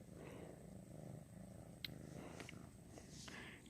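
Soft, close purring from a house cat being petted, a faint steady rumble with small rustles and one brief click, no talk.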